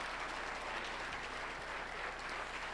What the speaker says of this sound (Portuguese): Palmas para a Bruna, gente